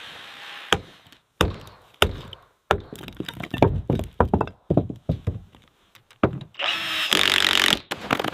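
Power tool cutting into rotted timber during the restoration of a large abandoned five-story forest treehouse, heard as a series of sharp, loud bursts and knocks, with a sustained grinding cut near the end.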